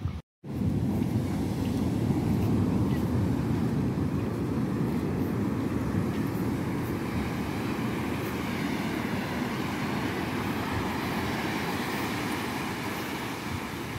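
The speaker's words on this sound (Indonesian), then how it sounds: "ini ombaknya besar sekali guys" Big ocean waves crash and roll at Lampuuk beach in Aceh, a loud continuous roar of surf with wind buffeting the microphone, after a brief dropout at the start.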